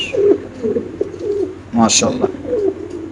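Pigeons at a pigeon sale coo in short repeated throaty bursts, close and clear, while someone talks over them.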